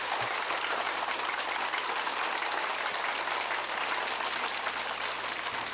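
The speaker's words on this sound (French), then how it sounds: "Accueillons notre maître vénérable avec des applaudissements enthousiastes." Enthusiastic audience applause welcoming a revered master, a dense, even wash of many hands clapping, loud and sustained throughout.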